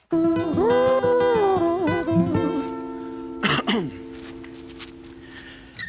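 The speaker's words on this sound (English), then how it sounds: "Let me clear my throat." A voice with a drawn-out vocal sound, then a short, harsh throat clearing burst, followed by quiet room tone.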